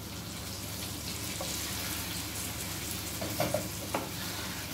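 Steady sizzling and frying of galunggong fish in sauce in a hot pan as hot water is poured in, a continuous close hiss with a few faint clinks near the end.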